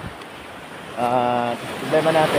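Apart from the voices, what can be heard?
large ocean waves crashing on rocks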